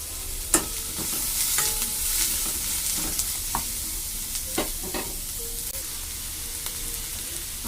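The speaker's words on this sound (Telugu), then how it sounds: "సాల్ట్ వేసుకుని వేసుకొని ఫ్రై చేస్తే త్వరగా ఆనియన్స్ ఫ్రై అయిపోతాయి" Onions fry in oil with salt added, giving a steady sizzle broken by frequent stirring scrapes and clicks of a utensil in the pan.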